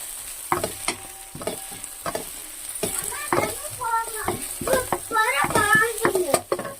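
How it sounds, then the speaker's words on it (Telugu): Gongura leaves stirred and fried in oil in a pan for pickle, with a steady sizzle and scraping stirs, while voices, including a child's, talk over it. "కొంచెం కొంచెం వేసుకుని మొత్తం ఫ్రై చేసుకోవాలండి."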